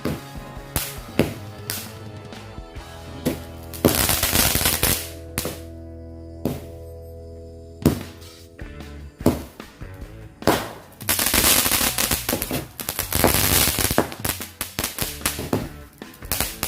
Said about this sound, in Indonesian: ini kita nyalain mercon Cobra